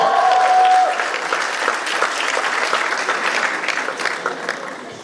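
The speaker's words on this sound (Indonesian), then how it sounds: "Beri tepuk tangan yang meriah untuk 10 besar finalis Miss Women 2014." Loud, dense applause from the audience at the Miss UMN 2014 awarding night for the top 10 finalists, a sustained wash of clapping with crowd noise that fades slightly toward the end.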